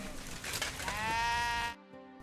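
A sheep bleats in Kingdom Come: Deliverance II, one drawn-out wavering bleat up close that cuts off abruptly into near silence with faint game ambience.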